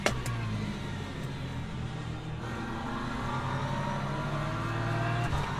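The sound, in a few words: LMP3 race cars in Le Mans Ultimate video game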